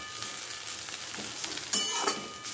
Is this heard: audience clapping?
no